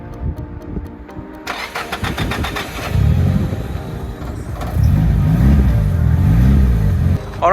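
A Nissan Silvia 240SX engine at drift practice starts and revs in a mid-pitched growl, rising and falling through several throttle blips, close and loud with no talk.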